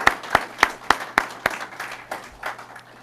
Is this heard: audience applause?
yes